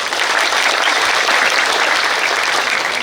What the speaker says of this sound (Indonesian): Kota Kediri, tepuk tangan.